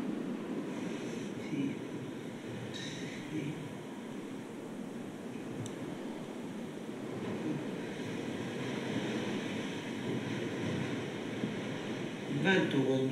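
Wind blows steadily with a rushing, surf-like roar, continuous and fairly loud throughout, while people talk over it.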